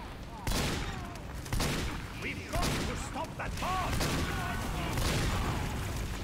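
Gunfire in the game Team Fortress 2, a series of loud sharp shots at irregular intervals over constant game noise, with a voice talking over it.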